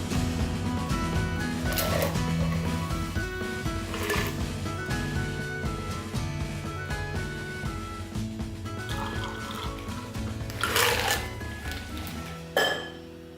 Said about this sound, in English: We are ready to pour.